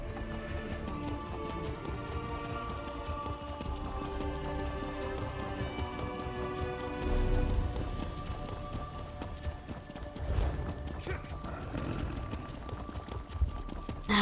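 A horse gallops steadily in The Elder Scrolls Online, hooves drumming in a continuous rhythm beneath ambient game music with layered tones.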